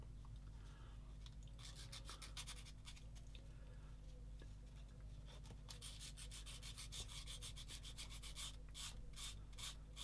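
Up close, a sanding sponge rubs a small plastic part from a 1/35 scale Bronco Mk XXIII submarine kit in quick, quiet scratchy strokes, irregular bursts coming faster and denser toward the end, with no talk.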